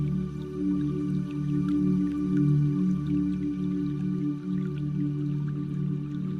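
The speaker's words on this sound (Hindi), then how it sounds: "आपको पानी की आवाजें आने लगती हैं।" Soft water sounds during a guided forest meditation, as a distant river comes within earshot; a gentle, steady liquid murmur with low swelling tones runs throughout, with no talk.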